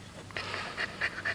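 Puppy panting in quick, rhythmic breathy huffs close by, soft and fairly quiet, with a few sharper breaths toward the end.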